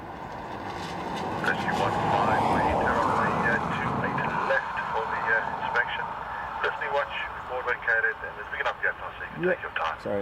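An ATR turboprop arriving at Dublin Airport from Newcastle, a loud roaring pass that peaks and fades after a few seconds, followed by crackling radio chatter and talk.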